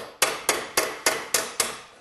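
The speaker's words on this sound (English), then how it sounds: "I'm going to move it around inside and hammer on the outside of this to try to smooth that out" A hammer strikes sheet metal over a dolly while shaping a Willys CJ2A fender, six crisp, evenly spaced metallic taps about a quarter second apart, close and clear with no talking.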